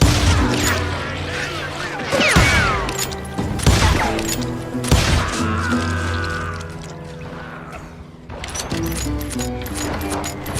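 Gunfire in the Western shooter Call of Juarez: Gunslinger, several sharp, loud shots in a ragged burst under an ongoing music score, with a lull before a final louder crack.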